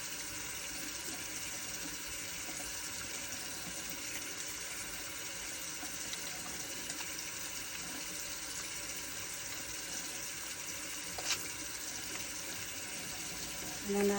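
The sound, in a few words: tap water running while washing hands at a sink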